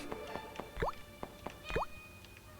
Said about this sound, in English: I hear the sound of water.